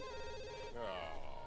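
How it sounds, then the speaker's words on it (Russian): A home telephone in The Sims 3 rings with a steady electronic tone that warbles and shifts partway through, fairly quiet, with game background sound underneath. "Кстати, я давно не слышала домашний телефон в Симсах."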